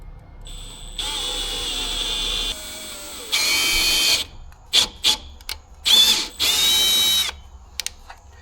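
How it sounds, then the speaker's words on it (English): A power drill whirs in several bursts of a few seconds each, then stops and starts in short, sharp pulses near the end. "don't do it with a drill bit, with a drill,"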